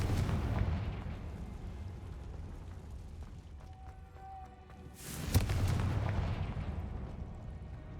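Confringo fire-blast spell explosion in Hogwarts Legacy, a sharp burst followed by a deep rumbling boom over a low, rolling game background.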